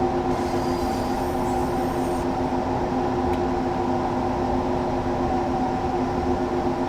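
A Class 187 electric locomotive in Train Sim World 2 runs with a steady, loud motor hum and tonal whine, under continuous rolling rumble.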